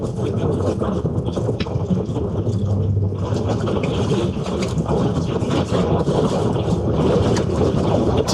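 Gusty wind roars steadily into the microphone outdoors during storm chasing in North Texas and southern Oklahoma, a dense, continuous rumble that buffets throughout without pause.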